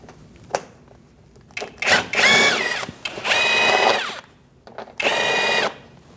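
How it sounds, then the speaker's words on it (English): On a 2008-2014 Mercedes-Benz C300 fender liner, a power tool with a 7mm socket removes a small bolt in several loud, close whirring bursts of a second or so, separated by short pauses and clicks. "Using a 7mm socket, we're going to take out this little bolt"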